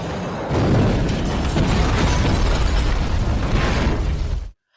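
A bomb going off in a police action film, a loud sustained roaring blast with crackling debris that rumbles for several seconds before cutting abruptly to silence.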